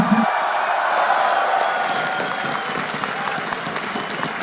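Loud esports arena crowd at a CS:GO semifinal in Katowice cheers and applauds continuously for Virtus.pro, a dense wash of clapping with whoops rising through it.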